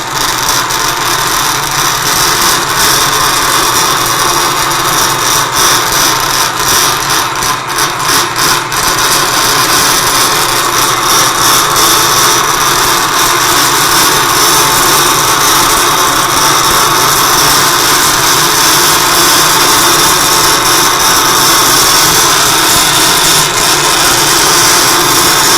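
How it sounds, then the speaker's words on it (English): A drill bit bores into solid material in a workshop, giving a loud, continuous, harsh grinding whine that holds steady for the whole stretch with no talking. "now we're getting down to solid material on this drill bit"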